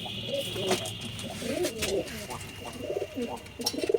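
Pigeons coo close by in low, throaty bursts that repeat throughout, with light rustling and movement in the background.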